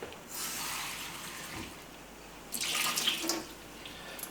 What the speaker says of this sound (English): I just fill it with a little bit of water.